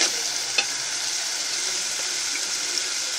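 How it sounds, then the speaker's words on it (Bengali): Ground spices with turmeric sizzle steadily in a hot pan while being sautéed for tengra fish paturi, a close, even hiss with a couple of faint scrapes of stirring. "আমি মশলাটা ভালো করে কষিয়ে নেব।"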